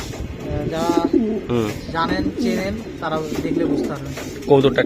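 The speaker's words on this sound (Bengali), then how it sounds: "বড় ভাই বাঘা কবুতর দিলেন" Racing pigeons at a loft coo in low, repeated rolling calls close by, mixed with people talking over them throughout.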